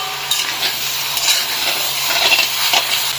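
Duck meat frying in oil in a pan for an Assamese duck curry gives a loud, close, continuous sizzle, broken by occasional stirring scrapes.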